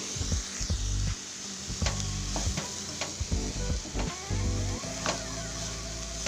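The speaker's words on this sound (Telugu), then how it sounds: "బీన్స్కి అంతా మొత్తం పట్టేలాగా మనం బాగా తిప్పుకుందామండి" Green beans tossed with grated dry coconut sizzle in a pan while being stirred, with repeated scraping strokes of the spoon over a steady frying hiss; no voices.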